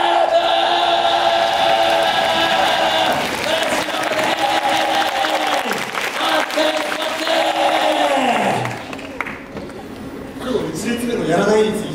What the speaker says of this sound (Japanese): 前から後ろに向かって拍手ウェーブ開始